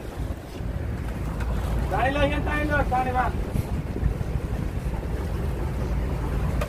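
Motorboat cruising off the Doha corniche, its low engine rumble and rushing water constant beneath wind buffeting, while a person speaks briefly over the noise partway through.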